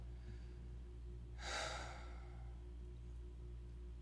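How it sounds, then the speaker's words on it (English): A single soft breath during breathwork, a brief airy exhale lasting about half a second over a faint steady hum, close and quiet with no talking. "Last 2, in through the nose and out through the mouth. Breathe with me. Exhale it out."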